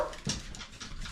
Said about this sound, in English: if you hear the dog barking